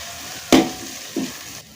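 Onion with crushed ginger and garlic frying in a pan give a steady close sizzle, broken by two sharper bursts of crackle as the pan is stirred.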